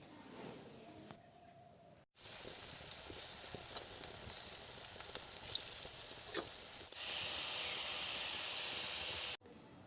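Coconut-stuffed rice flour pitha frying in hot oil, a steady close hiss and sizzle that swells louder midway with scattered crackling pops, then cuts off abruptly.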